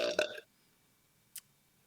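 A single short, loud burp at the start, then silence apart from a brief faint click.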